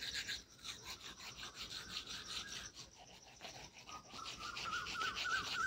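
A toothbrush scrubs teeth before the pre-dawn meal, a fast, even back-and-forth rasping held close and fairly quiet throughout, with faint high bird chirps creeping in toward the end.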